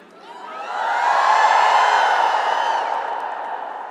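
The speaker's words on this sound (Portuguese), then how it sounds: "E agora dá um grito bem forte" A church congregation raises a loud sustained collective shout that swells and then slowly fades, many voices blending into one roar.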